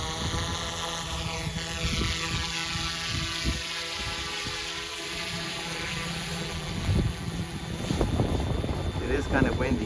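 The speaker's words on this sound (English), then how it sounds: "It is kind of windy." Steady wind rushes over the microphone with low rumbling, faint and continuous, with some speech mixed in toward the end.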